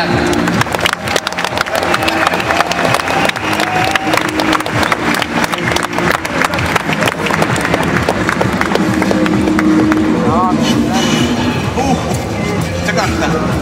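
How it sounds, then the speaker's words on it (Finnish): Audience applause for the winner and loser at the close of a final summer challenge event, a dense, steady clatter of clapping lasting throughout, with crowd murmur and a few voices mixed in. "Annetaan vielä kuvat aplodit voittajalle ja häviäjälle."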